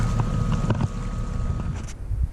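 Sailboat moving under sail at about three knots in a light breeze on Vermilion Bay, a steady rush of wind and water with microphone wind buffeting and a faint hum, no voices.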